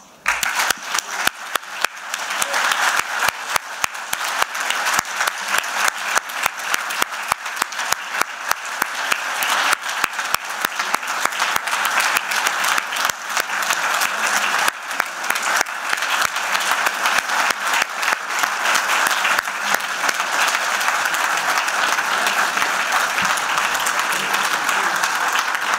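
A general assembly audience breaks into dense, warm applause for Maurice, a loud, sustained roomful of clapping that carries on steadily for nearly half a minute without fading.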